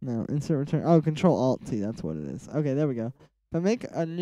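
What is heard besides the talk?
No everyday noise stands out behind the speech.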